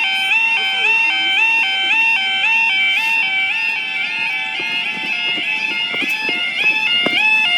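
A level crossing warning alarm at Lincoln Central sounds continuously and loudly nearby, its electronic tones stepping up and down in a repeating pattern, with faint clunks and background noise underneath.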